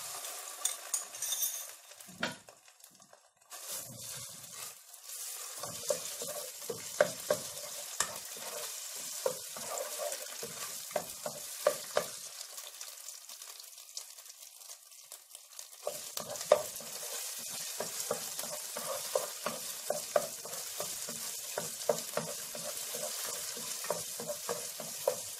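A spoonful of fish spice mix is stirred in a frying pan over a continuous close sizzle, punctuated by frequent scraping clicks of the utensil against the pan, briefly fading about three seconds in, with no voices.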